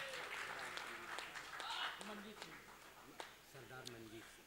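At a Hindi poetry gathering (kavi sammelan) in Gorakhpur, scattered audience clapping sounds faintly in a reverberant space, mixed with voices talking and calling out over it.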